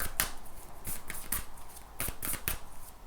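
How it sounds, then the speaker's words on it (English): A deck of oracle cards is shuffled by hand, with crisp riffling bursts coming in several separate runs over a few seconds, close and clear, and nobody speaking. "I'm going to shuffle these oracle cards"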